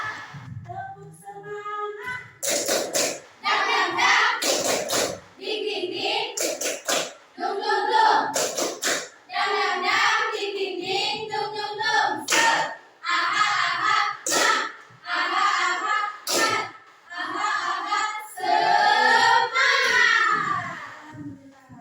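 Rhythmic group clapping in a 'tepuk semangat' clap routine in a classroom, bursts of claps in a patterned beat alternating with children and a teacher chanting along, loud and close.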